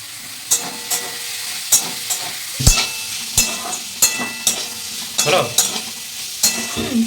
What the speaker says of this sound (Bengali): হালকা ভাজা হয়ে গেছে, এবার আমি গাজরটা দিয়ে দেবো এর মধ্যে